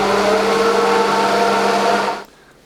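A blender whirs loudly and steadily as it purees lentil pizza dough made with dried oregano and water, holding an even drone for about two seconds before cutting off abruptly.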